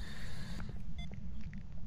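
An EMF meter emits a single short electronic beep at a dark, tense ghost-hunting location, heard over a constant low rumble and hiss.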